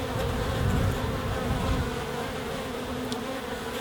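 Dense, steady buzzing of many honeybees in an open hive, a close, continuous low drone with no talk over it.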